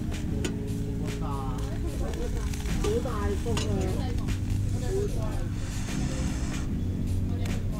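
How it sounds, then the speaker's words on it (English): Frozen sliced beef and lamb sizzle on a grill at a campsite near Mui Wo on Lantau Island, a steady crackling fry with occasional clinks of utensils and faint chirping in the background. "all I did with them is just put them on the grill, sprinkle some salt and pepper, let it cook"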